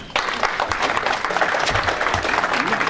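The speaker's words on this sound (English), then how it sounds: "Give him a round of applause." A crowd at a benefit auction breaks into brief, busy applause after a winning bid, with a voice talking over the clapping.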